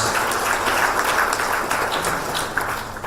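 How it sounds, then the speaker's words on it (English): Audience applauding a panel at a conference, dense continuous clapping filling the room, fairly close and steady for a few seconds. "the entire panel deserves a very big round of applause"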